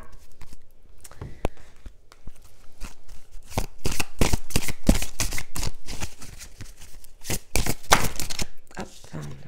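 Tarot cards being shuffled for a reading, loud close riffling and flapping bursts that come in uneven clusters and build into dense stretches of card slaps, with no voice over them.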